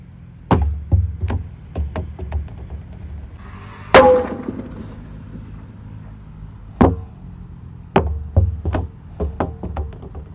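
Mercon banaspati firecrackers going off inside a big blue jumbo barrel, a string of sharp, hollow bangs with one louder blast in the middle and quieter pops between.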